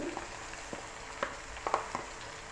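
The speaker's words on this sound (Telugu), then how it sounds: "ఉల్లిపాయలు వేగినాయి కదండి. ఇప్పుడు నేను అల్లం వెల్లుల్లి పేస్ట్ వేస్తున్నాను." Onions with ginger garlic paste fry in a pan on medium heat, a faint steady sizzle broken by several light scrapes and taps of a spoon.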